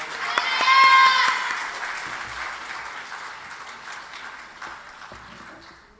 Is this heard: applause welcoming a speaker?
yes